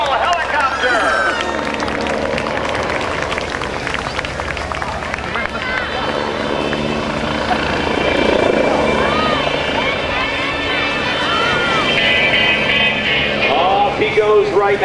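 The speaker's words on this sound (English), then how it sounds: "It's Chuck Aaron in the Red Bull helicopter." The Red Bull helicopter's rotor chops steadily overhead during aerobatics at the 2010 Jones Beach Airshow, rising and falling as it maneuvers, with crowd noise and talk over a public address underneath.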